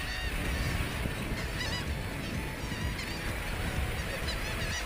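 A seabird colony on Newfoundland's Avalon Peninsula, with gannets, kittiwakes and murres, makes a dense, continuous wall of harsh calls and cackles. It is loud and unbroken throughout, with no talking.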